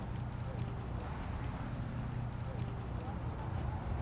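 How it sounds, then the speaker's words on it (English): Horse hooves clip-clop on the dirt of a rodeo arena where young riders train, a steady muffled beat under continuous crowd noise and talk. "your horse coming back, baby"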